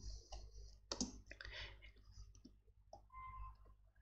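Typing on a computer keyboard during a language exercise, a quiet irregular run of light clicking keystrokes close by with short pauses between bursts, no voices.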